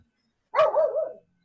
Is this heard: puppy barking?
yes